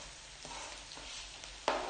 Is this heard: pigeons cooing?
no